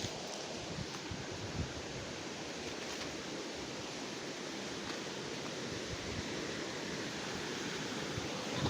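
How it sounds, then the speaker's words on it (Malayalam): A waterfall near Achankovil forest gives a steady, broad, rushing roar of falling water, continuous and moderately distant, with no voices over it. "നല്ലൊരു വെള്ളച്ചാട്ടം ഉണ്ട് ഇവിടെ കാണാം."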